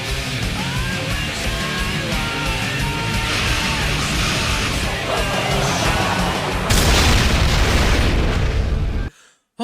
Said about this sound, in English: just a super explosion as Mordecai dunks it